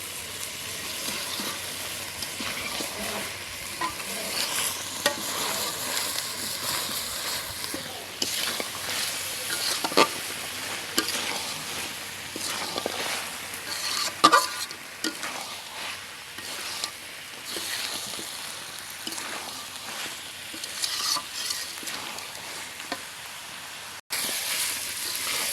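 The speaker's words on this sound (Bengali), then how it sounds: "মাংস রান্নার এটাই সবথেকে বড় পার্ট, মাংস কষানো। সেই মাংস কষানোই চলতেছে।" Young goat mutton being sautéed and stirred on a village clay stove makes a continuous dense sizzle, with the scrape of a spatula and occasional louder pops, close and steady throughout.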